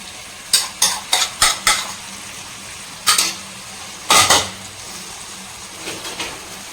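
A spoon stirring and scraping food being dry-roasted in butter over a high flame, heard as quick close clinks and scrapes in short bursts over a faint background sizzle, with no talking.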